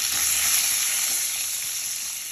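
Chopped tomatoes frying in hot oil for a tomato chutney give a steady, close, crackling sizzle with no talking.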